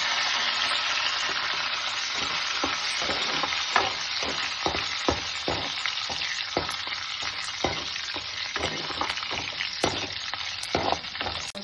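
Curry leaves fry in hot oil with a steady loud sizzle, broken by sharp crackling pops and the odd stir throughout.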